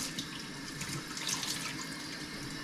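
Tap water runs steadily at a kitchen sink while dishes are washed, a continuous bright hiss with small splashing variations, fairly close and alone without talk.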